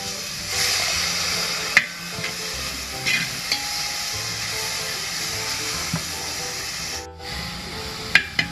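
Onion and tomato sizzle steadily in a frying pan while being stirred for a country chicken curry. The close, continuous hiss carries occasional sharp scrapes and clinks of the spoon against the pan.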